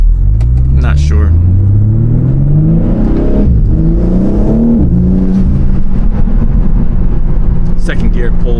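BMW M3 Competition engine pulling hard in second gear on a street drive, a loud rising rumble sweeping upward in pitch, briefly dipping at a shift and climbing again, with speech over it.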